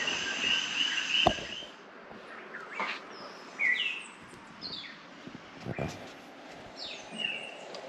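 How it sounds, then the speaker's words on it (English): Scattered high chirping calls of coqui frogs ring out intermittently near and far over a soft background hush of rain in Utuado, Puerto Rico, sharp rising whistles at irregular intervals. "it's just beautiful to just hear the rain and the coqui frogs"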